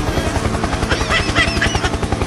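A toy remote-control helicopter whirs with a steady, rhythmic rotor buzz, close and constant throughout, with no voices over it.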